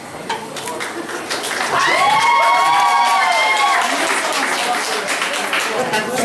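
An audience at a belly dance party bursts into loud applause and cheering that swells quickly and holds steady, with whoops and whistles rising above dense clapping as a voice speaks over it.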